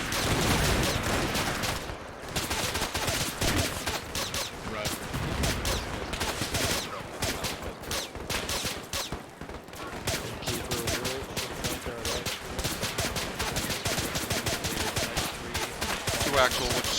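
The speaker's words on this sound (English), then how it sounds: "Contact close." Gunfire in a military video game comes as dense, continuous rapid bursts of automatic fire, loud and close throughout with no pauses, and voices at times under it.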